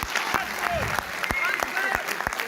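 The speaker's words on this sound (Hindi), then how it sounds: "बहुत अच्छी तालियां फिर से बजाइए एक बार।" Audience clapping at a comedy poetry gathering held by a staff club, a dense steady round of applause from a hall crowd, sustained and close throughout with scattered sharper individual claps.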